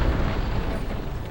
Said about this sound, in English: explosions in general produce very satisfying results